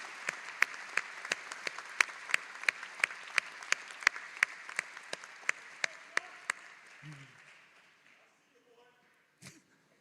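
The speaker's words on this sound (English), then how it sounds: "let's give our faculty a big round of applause" Commencement audience at Wayne State University applauding the faculty, a dense roomful of clapping with sharp individual claps standing out, fading out after about eight seconds; a brief voice sounds near the end.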